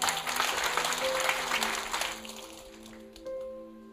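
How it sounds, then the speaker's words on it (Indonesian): A church congregation applauds during a sermon, a dense wash of clapping that fades over a few seconds while sustained organ or keyboard tones continue underneath. "Tepuk tangan saudara."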